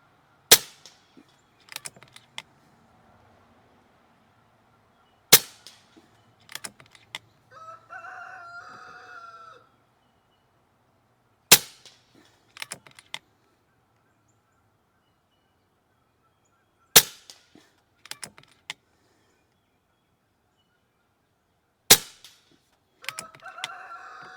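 An Epic 2 .22 caliber air rifle with a 420mm barrel fires five sharp, loud cracks, spaced roughly five seconds apart, each followed by a faint echo or ping, while a rooster crows in the distance between shots.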